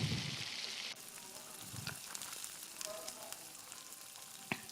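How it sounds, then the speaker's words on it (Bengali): Chopped onions frying with ginger garlic paste in a pan, a steady close sizzle and crackle throughout, with a louder hiss at the start and occasional scraping stirs. "ভালো করে কিছুক্ষণ এক দেড় মিনিট পেঁয়াজটা ভাজার পর আদা রসুন বাটাটা দিয়ে ভালো করে কষিয়ে নিতে হবে"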